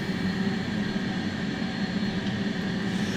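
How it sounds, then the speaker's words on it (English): The left jet engine of an F/A-18C in a flight simulator spools up with a steady low rumble and whine, a continuous even drone holding at moderate loudness without speech. "let's go ahead and crank the left engine"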